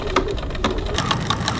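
A sewing machine fitted with a size 16 jeans needle stitching a crossbody bag, a close, rapid mechanical rattle of needle strokes that picks up speed in the second half.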